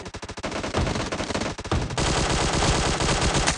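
Gunfire in the battle royale game PUBG Mobile, starting as rapid automatic bursts with distinct cracks, then merging into a loud continuous roar of shooting, close and dense with no voices.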